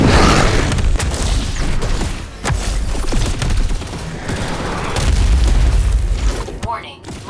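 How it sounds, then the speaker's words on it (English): Gunfire and explosions rage in the sci-fi shooter video game Earth: Revival, with loud booming blasts and dense rattling bursts filling the scene continuously, alongside shouted voice lines from the game. "Spread out and fire on that thing!"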